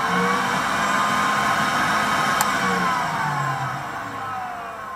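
The interior ventilation fan of a Pansarbandvagn 302 armoured vehicle, extracting exhaust fumes: a steady mechanical whir with a low droning hum, running continuously at an even level, slightly fading toward the end.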